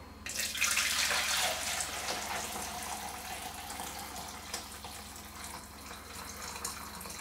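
Water pours steadily from a tap into a heat-proof container for making curry meatballs, a continuous close rushing splash that softens slightly as the vessel fills, with no voices.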